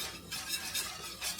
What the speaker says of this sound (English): Let's get everything whisked in.